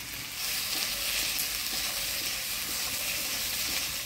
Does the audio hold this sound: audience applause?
no